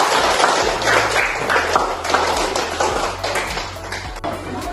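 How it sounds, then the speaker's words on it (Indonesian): Students in a classroom clap together in a loud, fairly rhythmic burst that continues steadily throughout. "Tepuk tangan semua."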